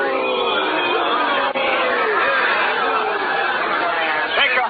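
A dense crowd fills a street in a 1937 radio drama, its constant overlapping voices forming a loud, steady murmur of chatter and jeering that runs the whole time.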